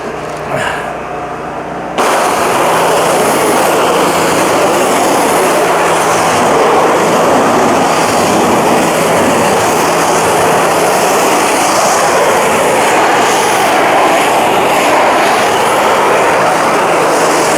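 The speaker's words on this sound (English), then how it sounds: "We'll show you the difference between high pressure power washing" A heated 4,000 PSI power washer with water at about 140 degrees sprays a surface: a loud, steady broadband roar that kicks in abruptly after a short quieter lead-in and holds constant.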